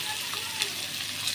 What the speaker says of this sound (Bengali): দিয়ে কুমড়ো আলুটা দিয়ে দেবো, দিয়ে আমি একটু ভাজা ভাজা করে নেব